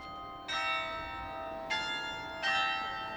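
Church bells ring out in Passau, Germany: three separate bright, resonant strikes spaced over a few seconds, each leaving a long shimmering decay, with no voices.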